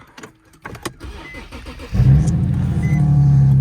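Infiniti G37xs with an exhaust leak cranks and fires up, the engine catching near two seconds and settling into a loud, steady idle after some faint clicks and handling sounds.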